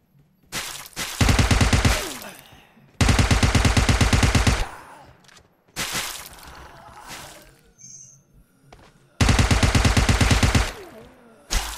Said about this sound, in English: There's another guy shooting over here.